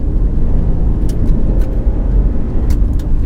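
Toyota Land Cruiser Prado 150 engine accelerating, a loud steady low drone from inside the cabin with constant road rumble.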